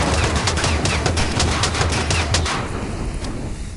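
Rapid bursts of machine-gun fire from a machine gunner unit in the video game TABS, loud staccato volleys that thin out into a quieter tail in the last second.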